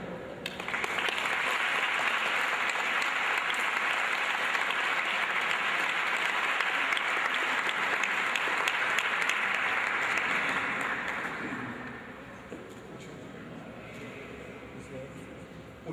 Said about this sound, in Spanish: quiero que lo recibamos con un fuerte aplauso